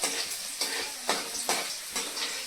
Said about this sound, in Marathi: आता कढई ठेवली मिरच्या टाकल्यात कापून ते आपण गरम करून घेतोय